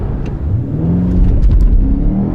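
A BMW M5 CS engine revs up loudly, a deep rumbling growl that swells and holds at close range with no voices.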